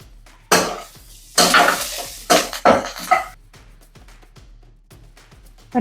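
Onions frying with salt and curry leaves in a home kitchen pan, stirred with a spoon that scrapes and clinks in several loud bursts over a steady low sizzle.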